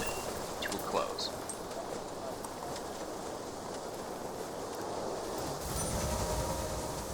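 A steam-era train from the railway game Railway Empire rolls into San Francisco station, a steady low rumbling roll with faint metallic clicks, continuous and moderately loud throughout.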